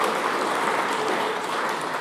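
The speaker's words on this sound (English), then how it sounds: "So give him the applause." Audience applause at a programming conference talk, a steady dense wash of clapping held at even loudness throughout with no voices over it.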